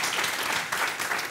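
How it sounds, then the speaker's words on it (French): An audience at a youth conference event applauds, a brief burst of dense, loud clapping from many hands, continuous with slight surges. "Des applaudissements généraux pour vous."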